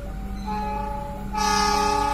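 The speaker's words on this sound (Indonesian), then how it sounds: "Kereta api Pangandaran bersilang dengan KA Serayu" Indonesian passenger train Pangandaran crossing paths with the Serayu train at a station, steady rumble with sustained horn-like tones that swell louder and brighter in the second half, no talking.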